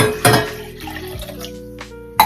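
Water runs and splashes steadily into a metal pot, two tumblers' worth for cooking, with a clatter at the start and another at the end.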